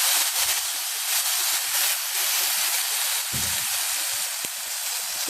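A spice mixture with red chili and salt roasting in a pan for aloo tikki gives a steady, close, loud sizzling hiss throughout, with a brief low bump of the pan partway through.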